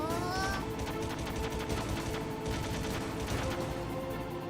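Gunfire in a Metal Gear Solid battle, aimed at drum cans, rattles in dense rapid bursts throughout, with a sustained mechanical drone underneath and no voices.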